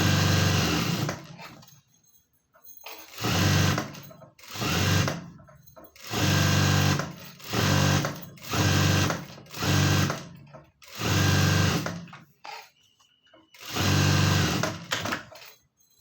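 A sewing machine stitches a blouse sleeve in short, even bursts of rapid whirring, about eight runs separated by brief quiet pauses, close and clear.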